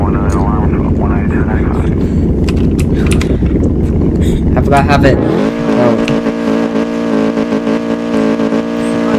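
A 2021 Aston Martin Vantage engine roars loudly, then rises to a steady high-pitched revving drone, with brief speech over it.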